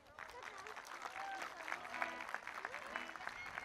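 Audience applause and cheering at an outdoor concert on a campsite, a crowd clapping steadily and loudly throughout with some whoops and voices mixed in.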